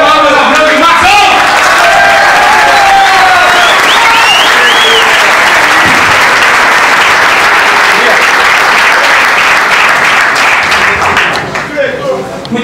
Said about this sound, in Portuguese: Uma salva de palmas a Branco e Marcão!